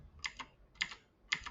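Keys tapped on a computer keyboard while working in AutoCAD, three quick double-stroke presses spaced evenly apart, close and fairly soft in a quiet room.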